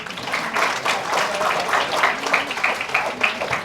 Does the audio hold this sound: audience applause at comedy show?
yes